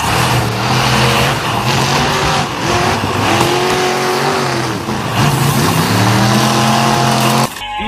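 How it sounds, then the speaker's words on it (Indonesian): A toy highway patrol police car runs loudly, its electronic siren-like engine sound rising and falling in wavering tones almost the whole time before stopping suddenly at the end. "Wow, mobil polisi teman-teman, patroli jalan raya."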